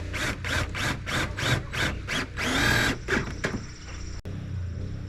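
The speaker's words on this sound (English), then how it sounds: "We are going to repeat the process using a number 10 1-inch self-tapping screw." A power drill drives a number 10 one-inch self-tapping screw into a cargo trailer wall while mounting a gas can holder, with a series of short rhythmic bursts followed by one longer whir, close and fairly loud.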